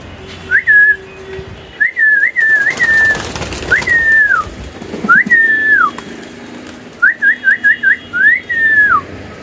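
Pigeons at a loft calling at feeding time, a series of short rising whistled calls in quick bursts, some clustered in rapid runs, fairly close and clear over a low background hum.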